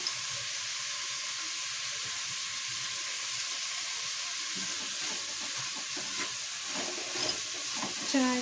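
Vegetable rice bath being stirred in a hot pan after salt, turmeric, garam masala, chilli and coriander powders go in, a steady close sizzle with scraping stirs throughout and a few sharper clinks near the end.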